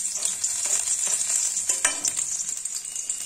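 Chopped garlic frying in hot oil in a pan, giving a steady bright hiss with light crackles and a few soft scrapes of stirring, close and continuous.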